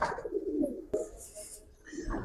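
A purple-coloured Giribaz pigeon coos close by in a few soft, low throaty phrases, with a brief sharp knock partway through and faint background noise.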